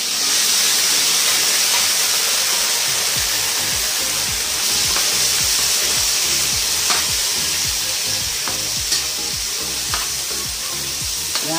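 Pork fries in a hot pan for dinuguan with a loud, continuous sizzle and hiss that holds throughout, broken by occasional faint taps of stirring.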